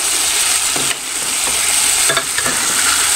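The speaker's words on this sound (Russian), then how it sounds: "Так, перемешаю аккуратненько ложкой." A spoon scrapes and stirs through food in a pan over a steady sizzle, with a few soft clinks against the metal.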